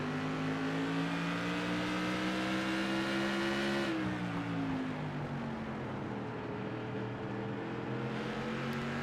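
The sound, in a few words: race car engine, onboard camera of car number 14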